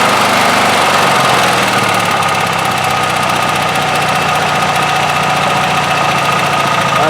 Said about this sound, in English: Alright, so it's running right now on auto.